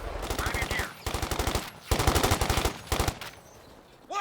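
Sustained machine-gun fire in the WWII strategy game Company of Heroes 2, Ardennes Assault, with rapid repeated bursts close and loud, broken by brief pauses over several seconds.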